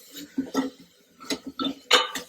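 A spoon stirring rajma masala with finely chopped coriander in a pan, giving close, clattering metallic scrapes and clinks in short irregular bursts, with no voices.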